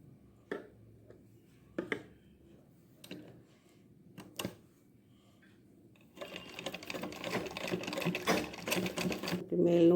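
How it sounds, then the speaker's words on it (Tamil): A sewing machine stitches a latkan back rope for a blouse, starting after several isolated clicks and soft handling sounds, then running as a steady, close mechanical rattle for the last few seconds while a voice talks. "இப்படி தைப்போம்."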